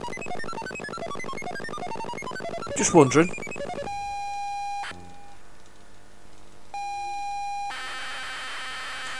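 ZX Spectrum tape loading sound with copy protection: dense warbling data screech, then steady pilot tones broken by abrupt switches and a burst of noisy data, with a brief spoken phrase over it.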